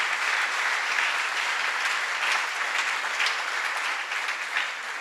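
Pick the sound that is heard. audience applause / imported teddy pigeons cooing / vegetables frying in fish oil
audience applause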